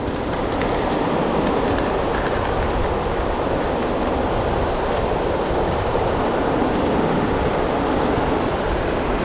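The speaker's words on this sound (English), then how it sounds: "just watch these waves crash" Ocean waves crash and roll continuously onto a South Carolina barrier island beach after a hurricane, a loud, steady broadband roar with no voices.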